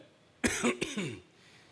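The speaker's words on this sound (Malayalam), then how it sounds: "നമസ്കാരം പറയുമ്പോൾ തന്നെ ഒരു ചുമ വരുന്നു" A single harsh cough bursts out close by, followed by a second shorter hack, then quiet room tone.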